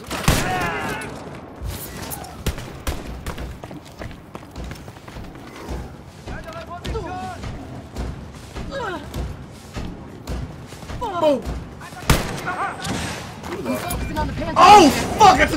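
Gunfire erupts in the video game Wolfenstein Youngblood as a string of sharp, loud shots crack out at irregular intervals alongside thuds and game effects, with a voice talking excitedly between the bursts.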